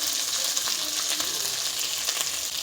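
Ground spices with turmeric and chili powder frying in a pan for a vegetarian doi potol curry, a loud close steady sizzle with faint stirring, no talk.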